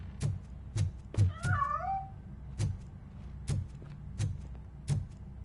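A cat in a RoboCop Rogue City video game meows once with a short rising cry, while a series of regular soft thuds, like footsteps, repeats around it.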